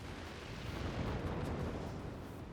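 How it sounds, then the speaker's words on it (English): Explosions in the Forts video game, a dense, muffled rumbling roll of overlapping blasts and booms at low level, continuous rather than distinct single hits. "here come the explosion"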